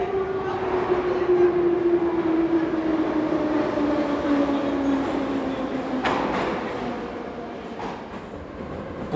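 A Moscow metro train runs through the underground, its loud rumbling roar steady with a whining tone gliding slowly downward, then a few sharp clanks before the noise eases off.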